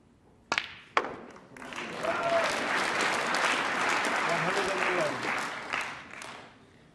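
Snooker crowd at a professional tournament final breaks into sustained applause after a century break, a couple of sharp thuds first, then steady clapping swelling and holding before tapering off.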